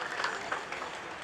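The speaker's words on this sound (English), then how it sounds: "Round of applause for Mr." Applause at a prison inmate graduation ceremony at Mile II headquarters in Banjul, a soft, diffuse patter of many hands clapping, fairly faint and continuous, with no clear talk over it.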